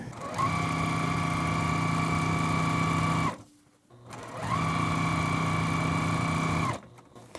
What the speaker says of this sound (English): we're going to take these to the machine and we're going to sew 1/4 inch away from both sides of our drawn line